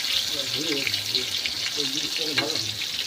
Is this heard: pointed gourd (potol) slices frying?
yes